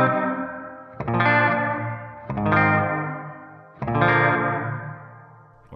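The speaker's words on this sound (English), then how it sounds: "two streams of audio, one with the room algorithm and one with the offspring algorithm" Three strummed guitar chords through a Source Audio Ventris reverb pedal, running room and offspring algorithms in parallel, each ringing out and decaying slowly under a wide, washy reverb, spaced a little over a second apart.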